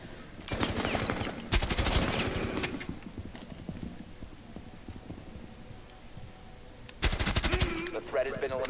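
Suppressed gunfire in Rainbow Six Siege: rapid muffled bursts, one short volley, a longer dense burst, then another burst near the end, with quiet game ambience between.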